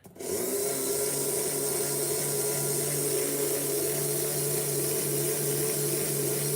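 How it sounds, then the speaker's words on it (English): Four-gear hop-up dragster motor spinning steadily on a dyno, a constant high-pitched whine with a strong low hum, loud and close, starting abruptly and holding unchanged throughout with no talking. "It sounds a real high-pitched squeal."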